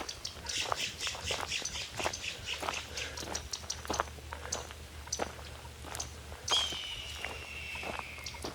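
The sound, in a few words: red-tailed hawk screaming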